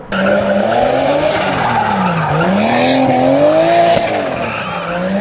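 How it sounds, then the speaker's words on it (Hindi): A car spins around with its tires skidding and squealing loudly, a continuous wavering screech that bends up and down in pitch over the engine for several seconds. "देखा कैसे गाड़ी घूम रही थी, झिन झिन झिन झिन।"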